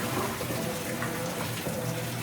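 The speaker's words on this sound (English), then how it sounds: "if I want to add some more water," A Whirlpool WTW5000DW top-load washer filling with water during its manual test mode, a steady close hiss and rush of inflowing water with no talk.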